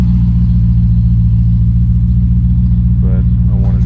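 A 2006 Dodge Magnum engine idles through Magnaflow mid mufflers with no tailpipes fitted, a loud, steady low rumble throughout, with a voice briefly heard near the end.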